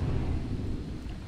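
Thunder in the Dota 2 video game: a loud, deep, continuous rumble that rolls on and fades slightly toward the end, with no speech.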